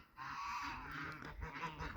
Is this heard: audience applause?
no